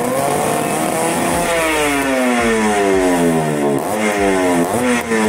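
A modified Suzuki Shogun motorcycle fitted with iridium spark plugs revs loudly and continuously up close, its engine pitch climbing and dipping through repeated throttle blips with no talking.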